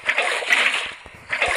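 Water splashing in the Minecraft video game, two short bursts of splashing separated by a brief pause, clear and close.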